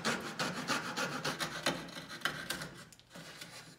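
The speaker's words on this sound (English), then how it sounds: "So we're taking the coping saw." A hand coping saw back-cuts a wooden baseboard at a 45-degree angle, giving a steady run of close, rasping strokes in a quick rhythm with no voices.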